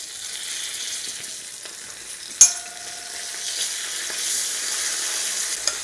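Garlic, asafoetida and curry leaves tempering in hot oil for a chutney, an even crackling sizzle punctuated by one sharp clank of a utensil midway and a softer knock near the end.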